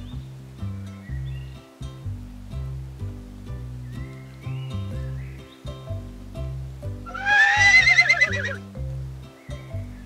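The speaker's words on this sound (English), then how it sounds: "Do you hear that? Who can neigh like that?" Cartoon horse on a farm gives a loud, quavering whinny over a bouncy background music track, the neigh rising and trembling for about two seconds near the end.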